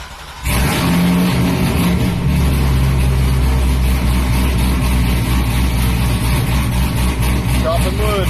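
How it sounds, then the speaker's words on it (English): A car fitted with a B&M setup, Z06 shocks and a Pedal Commander cranks and fires up abruptly, then settles into a loud, steady rumbling idle close by. "We're going to start up your car."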